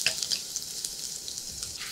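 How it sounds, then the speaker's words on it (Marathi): Two or three crushed garlic cloves fry in hot oil for a drumstick curry, giving a quiet, steady sizzle with light crackles and no talk. "2-3 लसूण पाकळ्या ठेचून घेतल्या आणि या आता हलक्याशा खरपूस सोनेरी रंगावर येईपर्यंत तळून घेऊ"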